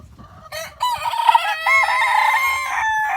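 Silkie chickens crow close by, a loud, wavering cock-a-doodle call stretched across a few seconds, with overlapping crows and clucks from the flock.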